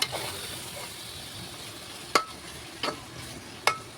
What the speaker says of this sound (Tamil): போட்டு எண்ணெய் அப்படியே பிரிஞ்சு வர அளவுக்கு நம்ம அடுப்பிலே வைக்கணும்